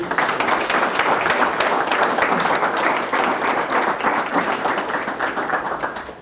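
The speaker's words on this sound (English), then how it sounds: "can we give David a round of applause?" An audience at a talk on acquisition entrepreneurship gives a round of applause for David after his session; loud, sustained clapping that stays even and then begins to fade at the end.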